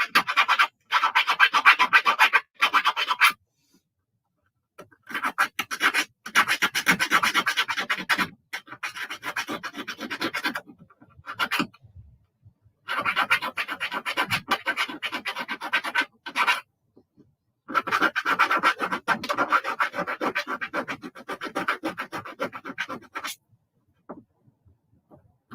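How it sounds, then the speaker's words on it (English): A hand reamer scrapes and rasps inside a soldered metal ring in bursts of rubbing strokes separated by short pauses, close and fairly loud with no talk. "So again, taking my reamer here."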